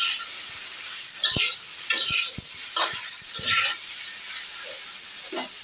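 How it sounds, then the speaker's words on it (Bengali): Pieces of eggplant, pumpkin and tomato stir-frying with salt and turmeric in a pan: a constant close hiss of sizzling oil with repeated scraping stirs and sharp clicks of a spatula against the pan, no voices. "এগুলো আমি নুন হলুদের সঙ্গে একটু ভাজা ভাজা করে নিচ্ছি।"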